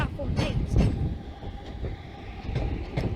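Class 323 electric train at Manchester Piccadilly station, a low rumbling with faint clatter and a steady tone, heard alongside station bustle and nearby voices talking.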